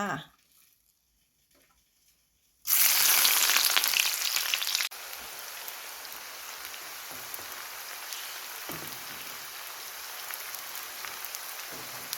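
Shallots go into hot oil in an iron pan. After a quiet start, a sudden loud sizzle bursts up, then settles into a steady, close hiss of frying.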